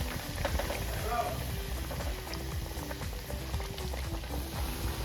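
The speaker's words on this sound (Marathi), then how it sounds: "तेल तापल्यानंतर बारीक गॅस ठेवायचा आणि कोपरे चांगले तळून घ्यायचे" Vegetable koftas for Veg Maratha fry in hot oil over a low flame, a steady dense bubbling sizzle that runs throughout beneath a speaking voice.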